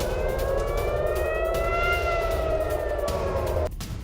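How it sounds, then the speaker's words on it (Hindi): Air raid siren wailing over Tel Aviv after a missile attack, a loud sustained rising-and-falling tone that holds for several seconds before cutting off abruptly into background noise. "मिसाइल अटैक के बाद सायरन गूंजा।"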